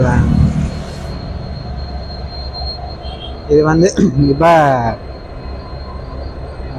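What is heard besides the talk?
train from Colombo arriving at Kankesanthurai station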